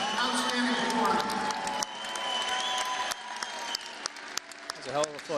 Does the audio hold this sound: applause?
yes